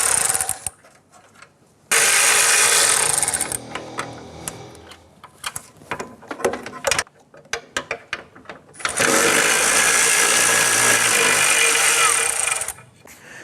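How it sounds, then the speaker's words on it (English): A 10mm socket on an extension ratchets loose radiator bolts on a 1997–2006 Jeep Wrangler, giving two long, loud stretches of dense clicking with scattered taps and clunks between them, close up and with no voices. "we're going to use our 10mm socket and extension. Let's go ahead, loosen and remove these"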